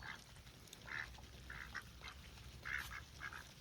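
Ducks quack in short, scattered bursts, several calls at moderate distance against a quiet outdoor background, while eating fermented feed.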